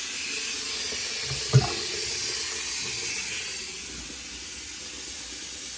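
Steady rushing, hissing water runs continuously from a newly installed Kohler bathroom vanity sink draining, with a brief clunk partway through and the flow easing slightly toward the end.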